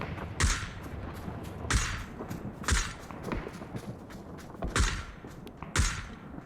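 Gunfire in the video game PUBG: sharp shots crack out in irregular bursts, about six prominent reports with smaller pops between, fairly faint over a low background.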